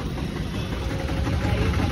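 A tractor engine runs with a steady, close, low rumble and vibration, carrying people toward a railway station.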